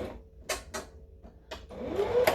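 A sewing machine stitches fabric for a dice bag in a circle, with short bursts of fast mechanical chatter separated by brief pauses, then a rising run at the end, fairly close and quiet.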